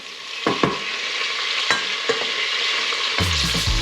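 Ñoras peppers and garlic fry in oil with a constant close sizzle, broken by several sharp stirring scrapes and clacks, and ending in a quick cluster of knocks.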